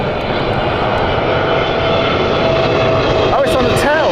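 An Air Canada airliner in a special employee livery arrives at Heathrow on a sunny day, its broad engine roar steady and loud, with people talking over it near the end.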